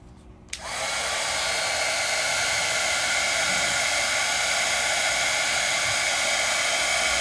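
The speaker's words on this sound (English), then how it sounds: "And then I could take my heat tool" Craft heat tool drying ink, switching on with a click and then blowing as a loud, steady, close hiss that continues unbroken to the end.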